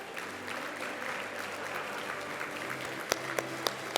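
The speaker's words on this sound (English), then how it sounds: "please stand for a round of applause" Audience applause fills a university achievement celebration hall, a steady wash of clapping from a seated crowd throughout, with a few sharper claps standing out near the end.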